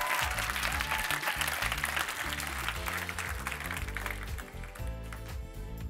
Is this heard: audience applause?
yes